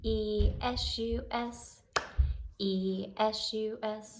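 Children in a preschool music class sing a spelling song, with quick hand claps filling in for a dropped letter between the sung letters, the claps crisp and close amid the voices.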